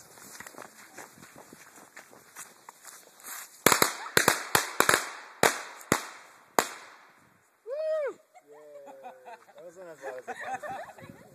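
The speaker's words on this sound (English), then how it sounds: "Little fireworks for the hiking trip." Small firecrackers pop in a rapid run of sharp, loud cracks, roughly eight bursts, with a few fainter pops before them. A brief whistling tone and voices follow the bangs.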